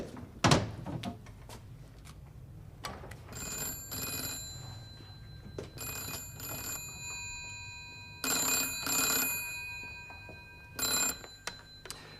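Old-style telephone bell ringing in several short bursts in a quiet room, with a few thumps and clunks between the rings.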